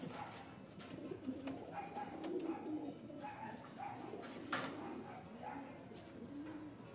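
Soft, low cooing from racing pigeons repeats steadily through the clip, faint and somewhat distant, with a light murmur of background noise.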